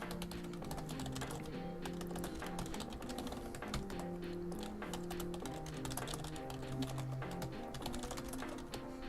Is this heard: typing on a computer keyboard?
yes